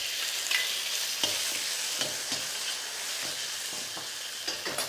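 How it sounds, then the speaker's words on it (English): Mushrooms cook in garlic oil in a wok over low heat, making a steady, close hissing sizzle with occasional light stirring clicks and no voices. "I'm going to take a little bit of that garlic oil. It's on a low heat here. Start to cook your mushrooms."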